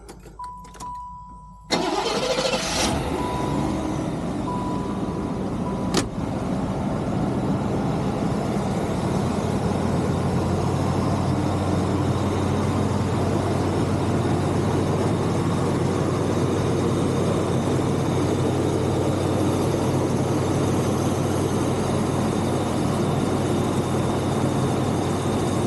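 A carbureted Chevy Caprice engine cranks briefly, catches and settles into a steady, loud idle that runs on without interruption.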